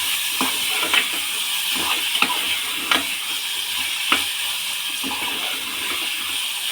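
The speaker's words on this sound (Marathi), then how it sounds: "हे भिजून घेतलेले हिरवे वाटाणे टाकायचे मटार त्या भाज्यासुद्धा आपल्याला दोन मिनटं परतून घ्यायच्या" Soaked green peas and mixed vegetables sauté in oil inside a pressure cooker, giving a steady close sizzle with a few sharp spoon-stirring clicks scattered through it.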